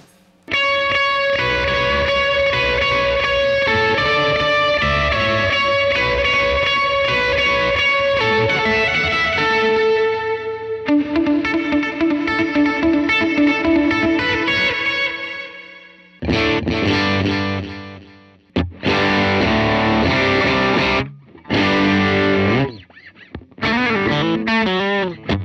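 Electric guitar with gain driven through a UAFX Ruby amp pedal, sustained distorted chords ringing for several seconds, then choppy stop-start bursts of riffing with brief silences between phrases, loud and alone.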